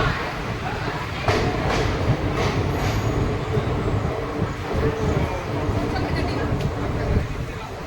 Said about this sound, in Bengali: নির্ধারিত সময় থেকে 8 মিনিট বিফোর ট্রেন এসে পৌঁছালো রামপুরহাট জাংশন